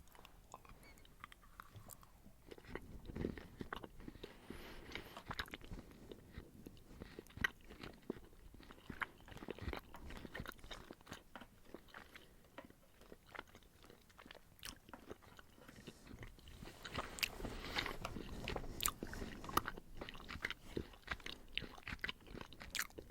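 Gourmet Danish licorice candy is bitten and chewed close to the microphone in a quiet setting, with soft repeated crunches and wet chewing clicks scattered throughout and no talking.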